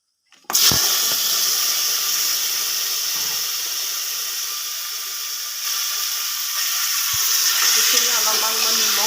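Spices sizzling in hot oil in a pressure cooker, with a dried red chilli, a bay leaf and panch phoron: a loud, steady frying hiss starting abruptly and holding close and continuous, with faint clinks underneath.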